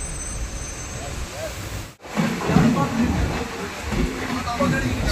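An express train from Kollam to Chennai Egmore pulling away from Aryankavu station near the Tamil Nadu–Kerala border: steady rumble and hiss of rolling carriages, a brief drop, then louder rattling motion, with someone talking over it.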